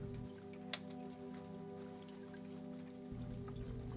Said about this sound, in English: the rain still falling in soft, silvery streams.